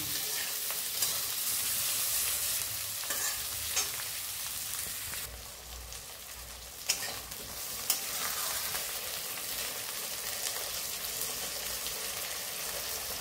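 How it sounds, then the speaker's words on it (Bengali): Cut medium-sized eggplant frying in a pan with salt and turmeric, a steady hissing sizzle with occasional spoon scrapes and clinks as it is stirred, moderately quiet and close, no talk. "একটা মিডিয়াম সাইজের বেগুন কেটে নিয়েছি, কেমন এই বেগুনটা দিলাম।"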